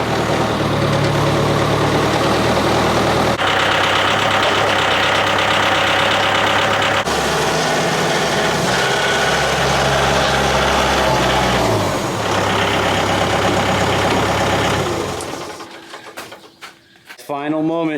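A Duramax diesel truck engine, freshly fitted with new head gaskets, runs with a steady loud idle and clattering drone that continues for about fifteen seconds before cutting off abruptly, with birds faintly audible behind it.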